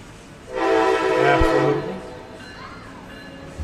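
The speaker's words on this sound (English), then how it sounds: "You got a train coming by." A train horn blasts loudly for about a second, then the passing train rumbles and fades into steady outdoor background noise.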